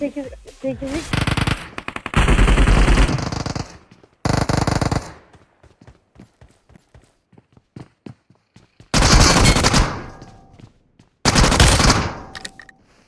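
Video game gunfire in several long automatic bursts, loud and close, separated by gaps of lighter scattered shots and clicks.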